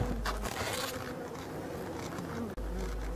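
Steady close buzzing of a black honeybee (Apis mellifera mellifera) hovering and moving around, continuous and fairly loud, with a brief dip near the end.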